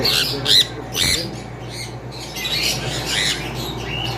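Cockatiels squawk in a bird shop, with several harsh, close calls in quick bursts over a steady background hum.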